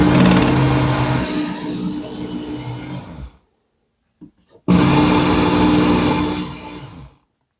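Loud, steady whirring grind of a Ken Onion Work Sharp belt knife sharpener as a blade is drawn across the belt, in two passes separated by a short quiet gap with a faint click.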